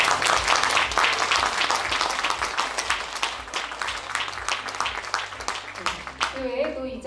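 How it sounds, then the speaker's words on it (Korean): A live audience at a book concert claps steadily, welcoming a novelist on stage; dense, sustained applause fills the room, then thins near the end as a voice starts to speak. "큰 박수로 맞이해 주시기 바랍니다"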